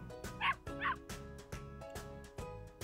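Several sharp dog barks and yips come in a quick, evenly spaced series, close and fairly clear, used as a sound effect in a children's read-aloud story.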